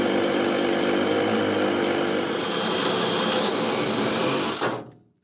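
An electric impact gun runs continuously to remove a nut from a car shock absorber on a Mk1 Escort, a loud, close, steady whirring buzz that winds down and stops abruptly near the end.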